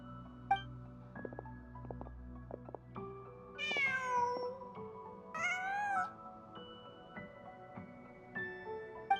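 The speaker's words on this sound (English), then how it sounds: "Just a cat." A cat meows twice in the video game Genshin Impact, two rising, whiny calls standing out over a quiet ambient game score with soft tones and no talking.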